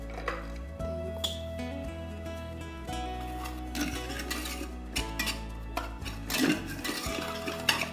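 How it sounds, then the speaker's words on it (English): Whisk stirring saffron and milk into a paste in a bowl in a kitchen, with steady metallic scraping and light clinks against the bowl, close and moderately loud over a humming background. "if you can give me the whisk, I'm just going to mix this up"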